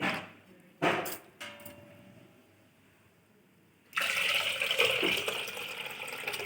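Water is poured over split green gram while it is rinsed in a kitchen vessel: a few knocks at first, then a steady, fairly loud rush of pouring water near the end.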